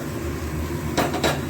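Fried spiny gourd pieces tumble from a container into a pan with two quick, bright metallic clatters over a steady background hum.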